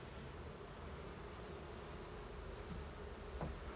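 Honey bees buzz inside a winter beehive, a faint, steady, dense hum with no voices over it.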